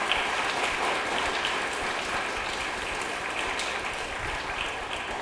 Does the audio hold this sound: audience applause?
yes